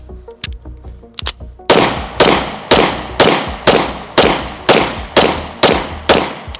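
A 1943 FN High Power pistol fires about ten loud, sharp shots at a steady pace, close up, each with a brief ringing decay, after a few quieter mechanical clicks and handling sounds.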